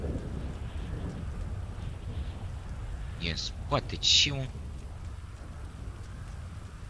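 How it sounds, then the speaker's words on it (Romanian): Steady rain and rumbling thunder fill a rainy scene in an online roleplay game, a continuous wash with a couple of louder crackling bursts near the end, under a person speaking briefly. "Mă, și cu ploaia asta mă enervează rău."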